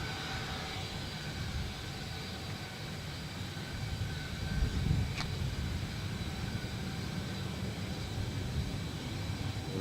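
At Adelaide Airport, an aircraft gives off a continuous low jet engine rumble that swells slightly midway, heard from a distance under steady outdoor noise.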